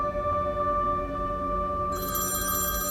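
A mobile phone rings with an incoming call in a steady, repeating electronic ringtone that stays loud and close, with a brighter tone entering partway through and no voices.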